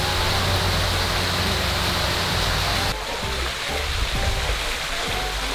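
Waterfall at an outdoor swimming spot with a rock to jump from, a steady loud broadband rush of falling water that holds throughout, dipping slightly halfway through.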